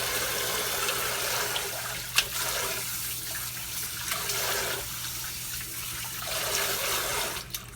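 Sea moss is washed under running tap water in a sink, a steady close rush of water lasting several seconds with brief clunks and splashes from handling, no talking.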